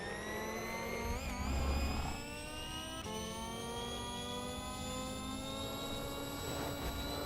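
RCCO World eX ZERO, a four-wheel-drive 1,000 BHP electric race car testing at Zandvoort, gives off a high whining electric motor tone that rises and falls as it passes, with a brief louder rumble early on.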